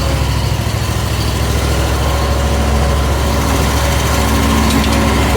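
A lawn mower engine runs steadily just after a cold start in spring, its loud, close, continuous drone holding an even pitch throughout without any talk.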